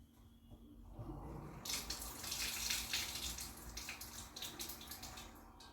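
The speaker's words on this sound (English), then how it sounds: "you want to fill it up with boiling hot water" Hot tap water runs into a large cooking pot, starting as a soft trickle and then turning into a steady, full splashing gush that lasts several seconds, close by and fairly quiet.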